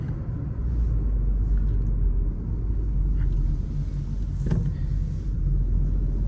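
A car on a test drive, heard from inside the cabin as a steady, loud low engine-and-road rumble with wind noise that runs without a break and without talking.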